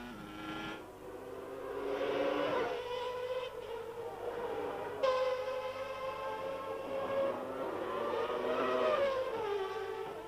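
Formula One racing cars from the 1993 season, a McLaren among them, scream past with high, rising and falling engine whine and shifting pitch, loud and continuous with no talk.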